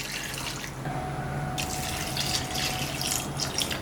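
Water poured from a glass into a pot of meat and lentils for shami kabab, a steady close splashing pour running several seconds with no talk.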